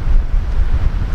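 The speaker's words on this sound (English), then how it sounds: "I hope with the wind, the way it's blowing," Wind gusts across a flooded, muddy lake whose campground lies underwater, buffeting the microphone with a steady low rumble that swells and dips throughout, with no other clear sounds.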